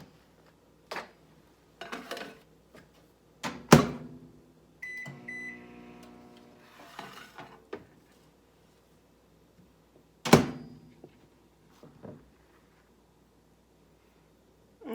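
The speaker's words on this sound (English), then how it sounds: "we're going to put that in the microwave for 1 minute" A microwave oven heating fudge for one minute: door thumps, a short beep, then a brief humming run with clicks, followed by more knocks and a final door clunk, all close and fairly quiet.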